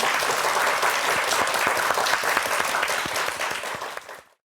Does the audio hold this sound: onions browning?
no